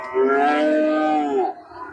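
Sahiwal cattle at a cow market in Joypurhat, one long, loud, close moo lasting about a second and a half, harmonic and steady, with no talk over it.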